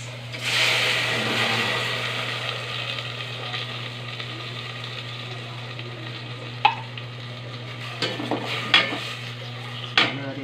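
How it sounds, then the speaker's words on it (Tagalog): Sardines sautéing in a pan for ginisang upo, a soft steady sizzle under a constant background hum, with a few sharp clinks and scrapes of a utensil against the pan later on. "Igisa natin ang sardinas."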